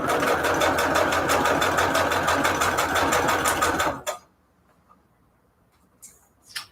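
A sewing machine runs a straight stitch at 3.5 length through scrap paper for a Valentine's junk journal, a loud steady whirring rattle for about four seconds that stops abruptly, followed by near silence and a couple of faint soft rustles.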